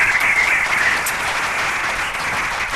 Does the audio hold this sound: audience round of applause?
yes